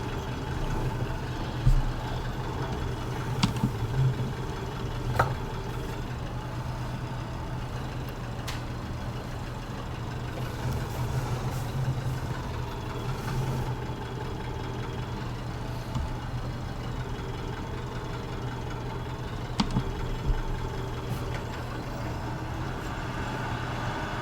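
A tractor engine idles steadily in Farming Simulator 19 on a farm. Its continuous low rumble holds for the whole stretch, with a few faint clicks and knocks over it, and no talk.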